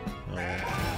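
Goats in the video game CrossCode give a short, loud bleat that fills the moment alone, a single wavering cry with no talk over it.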